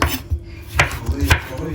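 A knife slices through a fresh tomato on a cutting board in a home kitchen, giving a few soft, close cutting taps and scraping strokes among faint background clatter.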